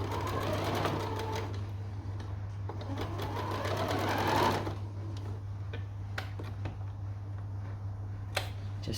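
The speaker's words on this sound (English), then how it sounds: "this is too soft and fluffy for my machine foot to push through, so it's going to need a little help from me" A sewing machine runs steadily, stitching soft, fluffy pyjama fabric for little girls' pyjamas, with a constant motor hum and rapid needle ticking that eases off partway through, followed by a few sharp clicks.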